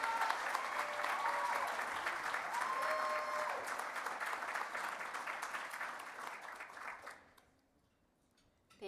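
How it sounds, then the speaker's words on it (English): Warm audience applause at an awards luncheon for an award winner, dense clapping from a large room with faint tonal music in the background, dying away to near silence before a last few claps. "please join us for giving a luminary, a winner, a big round of applause"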